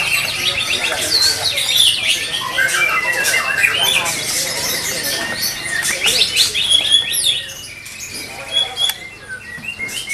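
A white-rumped shama sings at a songbird contest, its rich whistles, chirps and squawking phrases loud and continuous, mixed with other birds calling nearby and a busy crowd murmuring underneath.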